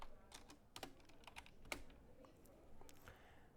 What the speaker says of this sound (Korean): 키보드의 화살표 키로 커서를 이동시켜 주셔도 됩니다.